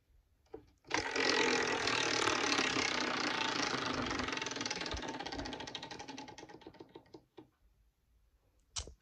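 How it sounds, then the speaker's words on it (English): Prize wheel spun for a skateboarding trick game, a fast rattling stream of clicks that gradually slows and thins out over several seconds before stopping, close and loud, with no talk. "So now let's spin it again."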